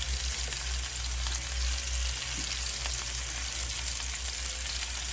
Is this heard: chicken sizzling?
yes